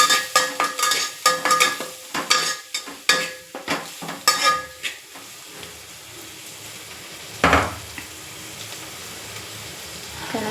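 A spoon stirring turmeric into a mixture in a frying pan, with a quick run of clinks and scrapes against the pan over a low sizzle, then quieter frying with one more sharp knock.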